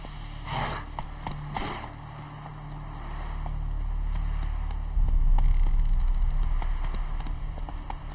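Video-game horse hooves clip-clop in quick bursts at first, then give way to a steadier, louder trotting rhythm over a low drone.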